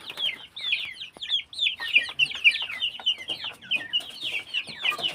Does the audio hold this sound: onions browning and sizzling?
no